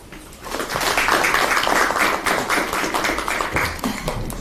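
Applause from an audience at a youth policy meeting on real estate, steady and dense clapping for several seconds with no talk over it.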